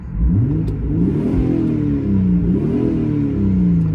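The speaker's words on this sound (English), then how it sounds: "you can't beat this engine though. It sounds fantastic." A 1996 Ford Probe GT engine revs loud and close, its pitch sweeping up and down through several throttle blips in a rising and falling rhythm.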